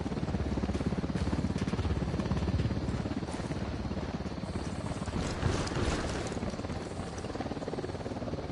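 A helicopter in the Ghost Recon video game, a continuous loud rotor-and-engine roar sustained throughout with little variation, heard alone without voices.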